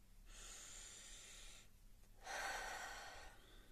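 Two long, slow, deep breaths during a self-massage, the first a steady airy inhale, the second a fuller, louder exhale through the nose, close and alone in a quiet room.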